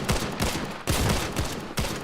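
Rapid bursts of gunfire in a competitive video game match, repeated volleys in quick succession, loud and close with short gaps between them.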